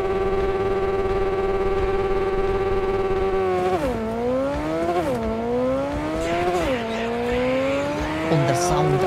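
Futuristic motorcycle engine from the Cyberpunk 2077 video game, a steady high drone that rises and dips in repeated swoops as it revs and shifts through the ride, loud and continuous throughout.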